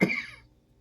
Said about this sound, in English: even though I have this cough today